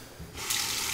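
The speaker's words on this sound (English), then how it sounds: "A final rinse of the razor and a cold water rinse to the face." Running tap water gushes into a sink as a razor is rinsed during a wet shave, starting softly and swelling into a steady, close, continuous splash with no talking.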